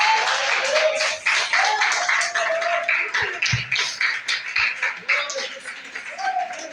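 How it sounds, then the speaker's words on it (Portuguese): Applause from a church congregation, a dense continuous clapping that stays loud throughout, with a voice speaking over it now and then. "Jesus merece uma salva de palmas."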